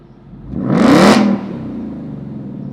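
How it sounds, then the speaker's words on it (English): A Roush Mustang with an active exhaust fires off a single sharp rev, a rising roar that peaks near the microphone, cuts off abruptly and settles back into a steady rumbling idle. "Let's give it one rev bomb before we head out"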